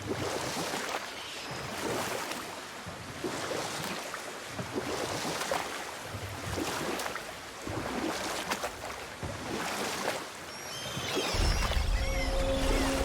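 Oars pulling a boat across open water in the God of War game, a steady stream of splashing and lapping water with rhythmic swells, broad and fairly loud, ending in a brighter burst of sound.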